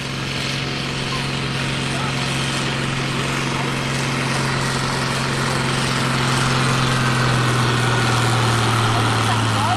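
A homebuilt tractor-pulling machine with a naturally aspirated engine and modified exhaust, at the Friesack 2017 tractor pull, gives a loud, steady, close engine drone that swells slightly toward the end.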